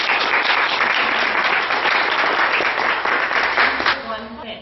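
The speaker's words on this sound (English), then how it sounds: "big round of applause for Tara Jones." Sustained audience applause at a horse riding demonstration, steady dense clapping throughout that thins slightly toward the end, with faint voices underneath.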